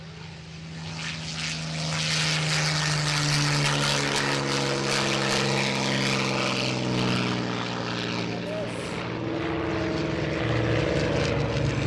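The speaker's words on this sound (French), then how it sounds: "The most numerous RAF aircraft in the Battle of Britain was this, the Hawker Hurricane." A Hawker Hurricane's propeller engine drones steadily at close range, a loud rumbling roar with a strong low hum that swells slightly as the aircraft passes, with some voices faintly underneath.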